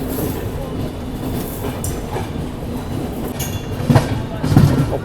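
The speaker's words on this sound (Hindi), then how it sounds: "सामने से कोई ट्रेन भी आ रही है ना, वो नई दिल्ली साइड से आ रही है।" A train approaches on the line from the New Delhi side, heard as a steady rumbling rail roar with a few clanks and knocks toward the end, recorded from aboard a moving passenger train.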